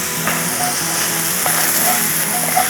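Sausage and sweet potato hash sizzling loudly in a pan while being stirred, constant crackling fry with faint scraping and a few utensil clinks, close and without talk.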